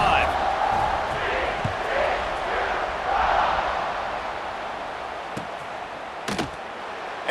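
A packed stadium crowd in College Football 26 sends up a steady roar during a kickoff, loud and wide at first and then easing, with a few sharp thuds near the end.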